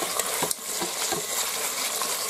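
Duck pieces frying in fat in a multicooker for plov, giving a steady close sizzle and crackle with a few sharp pops and stirring clinks.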